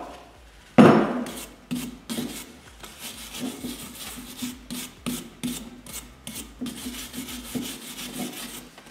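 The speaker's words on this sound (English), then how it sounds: "we're just going to stick with the stainless. It's just aggressive enough to" A stainless steel wire brush scrubs brake dust off a removed brake caliper from a Chrysler Crossfire, making repeated close, raspy strokes in a steady back-and-forth rhythm with a sharp louder scrape at the start.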